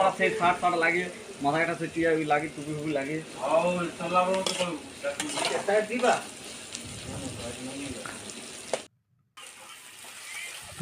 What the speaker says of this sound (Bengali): গরম তেলে পেঁয়াজ একটু ভালো করে ভেজে নিচ্ছি